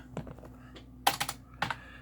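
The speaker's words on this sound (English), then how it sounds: "Typing with one hand is difficult." Keys on a computer keyboard typed with one hand, a few scattered soft taps followed by two short clustered bursts of louder clicks, close and alone in a quiet room.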